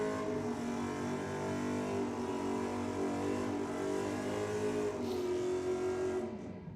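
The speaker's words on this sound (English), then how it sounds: "Not too shy in the burnout." At a drag and burnouts night in Sydney, a car holds a long, loud sustained engine roar for a burnout, its pitch steady and then sagging slightly before it cuts off near the end, with no talk.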